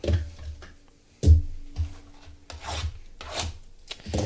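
Opening a jumbo hobby box of 2026 Topps Series 1 baseball card packs: several sharp rasping rips and rubbing crinkles at close range, with a loud burst near the middle and no talking.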